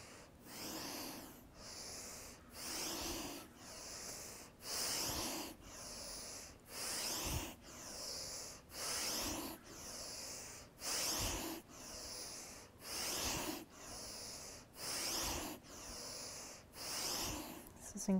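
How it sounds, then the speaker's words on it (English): Rhythmic breath of fire during a flowing Kundalini yoga sequence: about a dozen forceful, snorting nasal exhalations repeat at a steady pace, each a short burst of breathy air, close and fairly quiet. "The breath might become like breath of fire, but a slow, steady,"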